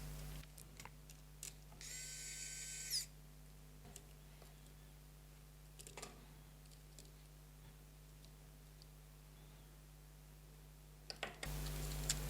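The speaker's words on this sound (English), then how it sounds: "And the electric screwdriver comes to rescue." An electric screwdriver driving nuts during a toy rebuild whirs in a short burst, with faint clicks and handling sounds before and after in a quiet room.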